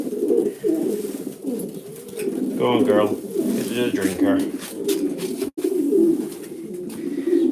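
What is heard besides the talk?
pigeon cooing as it lands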